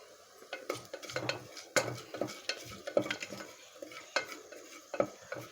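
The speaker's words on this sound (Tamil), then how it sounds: "ஜீரகம், சோம்பு, இலை, நட்சத்திர சோம்பு போட்டு நல்லா வதக்கிக்கலாம்." Whole spices (cumin, fennel, bay leaf and star anise) sautéed in a pan for mutton kulambu, with a soft sizzle under repeated scraping, clinking stirs of a spoon against the pan at an uneven rhythm, close by.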